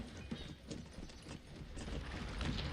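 Horse hooves clip-clop in the real-time strategy game Cossacks: faint, quick, irregular hoof clatter from cavalry units moving amid low battle noise, with no voices.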